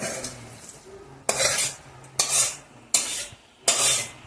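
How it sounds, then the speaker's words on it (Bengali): A spatula scrapes and stirs mixed fried rice with egg, ghee and cashews in a hot pan, in four or five distinct scraping strokes over a soft sizzle, close up and with no talking. "এবার সব কিছুকে একসঙ্গে মিক্স করে নেবো।"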